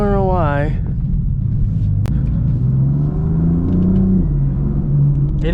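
A BMW M4 at full throttle on a hot day: a heavy, continuous engine rumble that rises and swells in pitch midway as the revs climb, with a voice briefly audible near the start.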